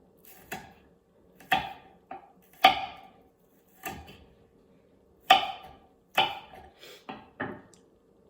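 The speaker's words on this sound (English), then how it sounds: "with the rest of my spring onions, I'm going to want to use my claw method and cut little slices" Knife slicing spring onions on a cutting board, about a dozen crisp separate chops spaced at an irregular pace, close and clear over a quiet background.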